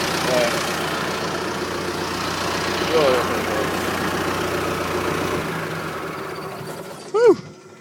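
A bulldozer engine idles with a steady low rumble under rough talk, then is shut down and falls quiet, followed by a brief squeaking rise near the end.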